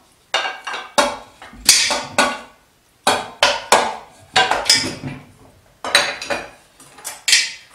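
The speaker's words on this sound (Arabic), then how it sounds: "ناخذ المقفول نحط كتريفات نتاع الدجاج باش نفوحهم" Chicken pieces go into a metal couscous steamer pot with a series of loud, close clanks and knocks in uneven bursts, separated by short silences.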